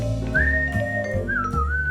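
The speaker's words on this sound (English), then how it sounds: "that's learn to whistle" A person whistles a tune, long sustained notes that slide and waver in pitch, with a low steady hum running underneath.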